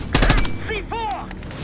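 Call of Duty Black Ops 6 gunfire, a quick loud burst of rapid shots followed by a short voice call amid battle noise.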